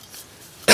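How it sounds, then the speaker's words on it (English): A single loud, close cough at the end of a quiet stretch, from a person still recovering from the flu while winter hammock camping outdoors at Oil Creek State Park, Pennsylvania. "Still coughing from that flu I had a week and a half ago."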